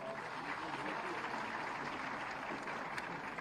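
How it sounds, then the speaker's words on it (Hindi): An audience at an awards ceremony honoring women claps in a dense, steady wash of applause, faint and distant throughout. "जोरदार तालियां।"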